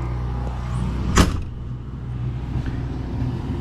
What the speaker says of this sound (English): Okay, now let's shut the door here.